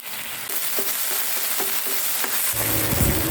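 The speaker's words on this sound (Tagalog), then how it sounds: "At kung naigisa natin ito sa mantika, ilagay naman natin dito yung ating bawang." Seasoned ground meat and garlic sautéing in hot oil for shawarma filling, a steady close sizzle with faint spoon scrapes and stirring, growing louder and fuller near the end, with no talk.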